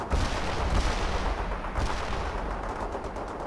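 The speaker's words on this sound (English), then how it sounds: "Activating grenade launcher" Grenade launcher fire on an amphibious vehicle in the World in Conflict strategy game, heard as a dense, continuous rumble of loud battle blasts and gunfire with no clear gaps.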